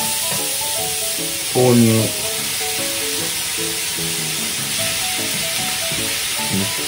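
Thinly sliced vegetables stir-fried in a hot pan give a steady, bright sizzle that runs throughout, heard beneath a man's continuous speech.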